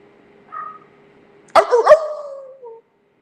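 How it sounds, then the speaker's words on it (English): A dog gives a short yip, then a sharp burst of loud barking and whining that trails off into a brief whimper, close by and alone with no talk. "You hear the dogs barking."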